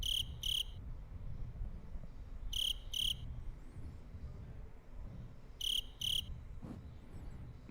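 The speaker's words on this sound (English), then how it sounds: "This is crickets, upper right." Soundboard cricket effect: short bursts of chirping repeat in pairs a few times over a low rumbling room background, fairly clear and close.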